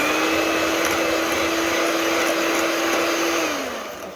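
An electric hand mixer whips cream with sugar and a splash of milk, a steady close motor whine held for about four seconds before it winds down and drops in pitch.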